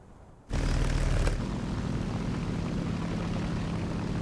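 A Fiat aircraft's piston engine in a World War II combat video game starts abruptly and holds a loud, steady propeller drone, with a brief harsh burst early on.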